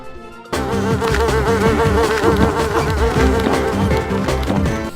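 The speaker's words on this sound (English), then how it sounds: "how can you forget the buzzing of the bees to mask the generic music in the background" Loud, steady insect buzzing from swarming bees in the Ninjabread Man video game, droning continuously over layered background music after a brief quiet start.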